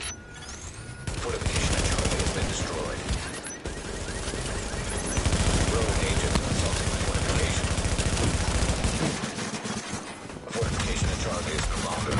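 Sustained video game battle gunfire rattles almost without pause: dense automatic bursts and overlapping shots around a fortification, loud and close, broken by a couple of short gaps, with a radio-style voice speaking over the fighting.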